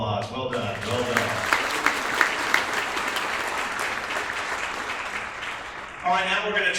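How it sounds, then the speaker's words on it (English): A crowd applauds at an awards tribute event, a dense, steady wash of clapping that runs for several seconds before talking returns near the end, with talk also at the start. "All right, one more round of applause."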